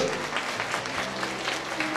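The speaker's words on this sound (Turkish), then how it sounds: "Alkış alkış." Brief burst of steady clapping from wedding guests, an even crowd patter that carries on through the short moment without pause.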